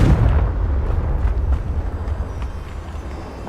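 A Confringo blasting spell explodes in Hogwarts Legacy with a deep booming burst at the start. The low rumble then decays over a few seconds, with faint crackles and debris-like pops trailing off, and no one speaks.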